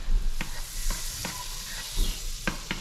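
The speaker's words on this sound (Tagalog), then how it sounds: "Pag melt na yan, lagay na natin yung bawang." Garlic sizzles steadily in melted butter in a pan, a close, even frying hiss broken by a few sharp crackles and stirring scrapes.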